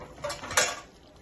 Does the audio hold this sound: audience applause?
no